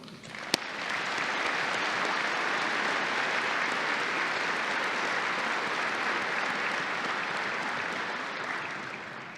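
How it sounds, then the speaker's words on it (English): A large audience at a police chiefs' conference opening ceremony gives a sustained round of applause, loud and dense and holding at a steady level for about nine seconds before tapering slightly. "Please join me in a round of applause for Commissioner Ross and the men and women"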